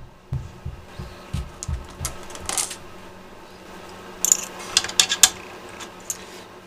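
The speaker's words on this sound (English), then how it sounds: "so I can take my wrench" A wrench turns and clicks against bolts on the Y axis of an i3V 3D printer, a run of small metallic knocks and taps, close and intermittent, with a sharper cluster of clinks toward the end.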